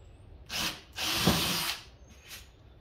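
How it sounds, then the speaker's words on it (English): A power drill set to low torque bores a hole while building an amp rack: a short whir, a longer sustained run, then another brief burst, close and loud with quiet pauses between. "Drill a hole, there's one."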